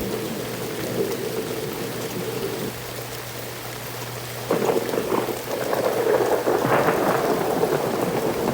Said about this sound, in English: Seriously, I have never seen it rain like this before.